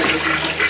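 Water sprays hard and steadily from a bathroom bidet in a hotel bathroom, a close, loud hissing rush that fills the whole short moment with no talking.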